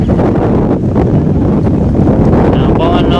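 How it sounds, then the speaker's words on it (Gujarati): Strong gusts of wind batter the microphone outdoors in a village, producing loud, continuous low rumbling and buffeting with no break. "પવન નો અવાજ કેવો આવે, ભૂકા કાઢ નાખે."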